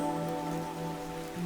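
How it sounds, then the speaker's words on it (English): Steady rain pours in the video game Fantasian Neo Dimension, a continuous soft hiss that holds even through the whole stretch under sustained tonal music with no voices. "The rain grew stronger."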